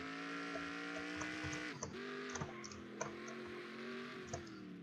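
Racing game engine drone from a Trans-Am car mod in NR2003 at the Daytona road course, a steady tonal hum that dips and bends during a drift, with faint clicking over it.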